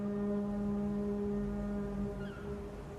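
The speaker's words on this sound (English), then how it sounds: "you can hear the sound of an approaching ship." A deep ship horn from an approaching ship in the game Little Nightmares drones steadily, sounding distant and mournful over a low, rumbling background.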